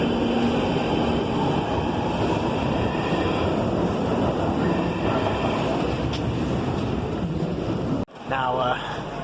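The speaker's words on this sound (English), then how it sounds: "And there goes the tube onto its next destination." London Underground tube train departing a station, a loud close roar and rumble of wheels and motors sustained throughout, ending in an abrupt cutoff followed by a brief squealing tone.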